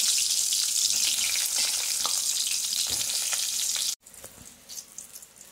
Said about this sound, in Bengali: তেল গরম হয়ে গিয়েছে, এবার বেগুনটা ভেজে নেব।